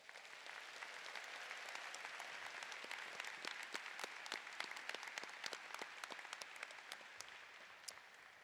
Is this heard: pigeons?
no